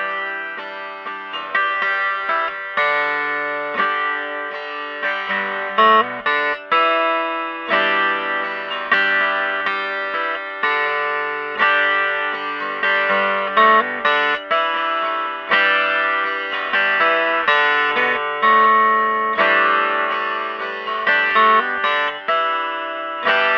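Electric guitar played through an Axe-Fx III, dialed in to match the original recording's tone. Steady melodic lines ring out with chorus, delay and a touch of drive, loud and continuous throughout.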